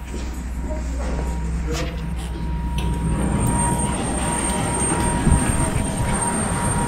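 LOT Embraer 170 airliner at the airport, a steady low engine drone and whine with airport apron rumble, heard from close by with faint voices and scattered clatter over it.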